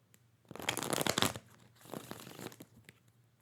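Tarot cards are shuffled up close in two short, soft bursts of riffling and rustling, the first louder, then a brief quieter patter fading out.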